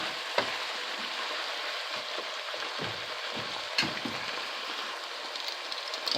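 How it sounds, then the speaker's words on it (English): Vegetables and ground beef sizzle and fry steadily in a hot pan for goulash, with a constant bright crackle and a few soft clinks and stirring scrapes, close and alone. "I'm going to add all of those vegetables right in there. And we're going to cook those for a little while."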